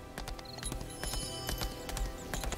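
Horse hooves in the Lost Ark video game, a quick, steady run of clip-clopping steps close by with a rhythmic gallop feel, sounding alone without talk.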